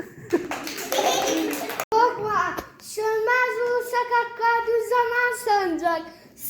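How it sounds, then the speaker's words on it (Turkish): A short burst of clapping from a group, quickly giving way to a voice reciting the Turkish national anthem in a sing-song, chant-like way. "Alkış."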